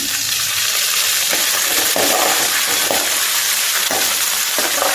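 Curry leaves, coriander seeds and fenugreek fry with salt in a pan, giving a loud, steady close sizzle with occasional stirring scrapes throughout and no talking.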